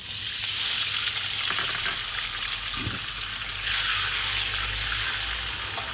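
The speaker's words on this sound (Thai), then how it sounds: "จากนั้นเราจะใส่น้ำเปล่าลงไปค่ะ" Plain water hits garlic frying in a pan for Thai-style yellow noodles, a loud, close, hissing sizzle that surges and rushes steadily, with a brief splash in the middle.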